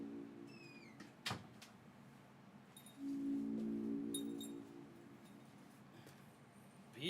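A large, very long house cat moves about indoors, making a sharp knock, a drawn-out meow or growl in the middle, and a few faint squeaks and rustles at low volume.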